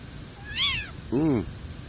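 A cat gives two short meows in quick succession, the first higher and thinner, the second lower and fuller, close by over a faint background hum.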